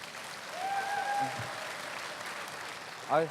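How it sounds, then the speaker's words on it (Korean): An audience at a large lecture hall claps in steady applause that runs most of the time, with a voice briefly audible near the end. "박수를 많이 쳐주셔서 영광입니다"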